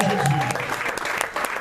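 A congregation applauds during a French-speaking Christian church service, with dense, steady clapping from a crowd filling the room and voices and a sustained tone beneath it.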